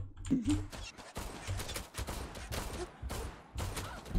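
Gunfire in the shooter game Zula comes as rapid sharp shots in several quick bursts, fairly loud and close, with a voice faintly underneath.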